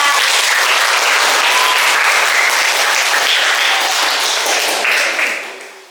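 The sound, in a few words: applause from school audience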